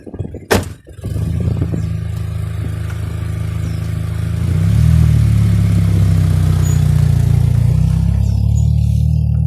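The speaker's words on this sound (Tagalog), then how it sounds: "So drive ko muna doon sa parking." A Toyota 2E engine cranks with a sharp thunk, catches and settles into a steady loud idle, then the revs rise slightly as the car is driven to parking, close and alone.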